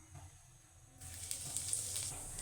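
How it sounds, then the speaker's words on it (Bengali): Cumin seeds dropped into hot oil as a tempering for a Chital fish muitha curry, giving a sudden burst of steady, close sizzling about a second in that keeps going without a break. "প্রথমে দিয়ে দিলাম কয়েকটা জিরে"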